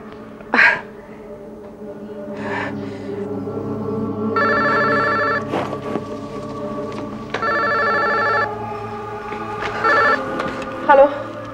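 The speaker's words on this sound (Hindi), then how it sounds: "हाँ, कबीर, तुम्हारा फोन है" A telephone rings in short repeated bursts indoors, a bright electronic trill that starts and stops several times, while people talk in between and over it.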